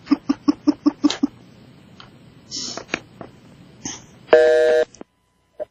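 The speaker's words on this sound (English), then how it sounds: "her phone line connection is gone" On a radio call-in, the caller's phone line drops: a run of evenly spaced beeps, then scattered clicks and tones, a brief loud buzzing burst of line noise, and silence, all fairly close.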